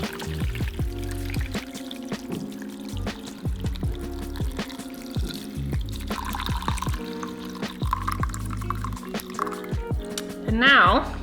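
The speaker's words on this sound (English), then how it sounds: "put a little strainer over your largest measuring cup, and very carefully pour it over" Liquid pours and trickles steadily through a small strainer into a large measuring cup, with small drips and splashes, while a person talks over it.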